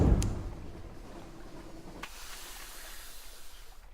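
A steamship engine running at full power in the game Sunless Sea gives a faint, steady hissing chug, with a brief louder burst at the start and a soft puff midway.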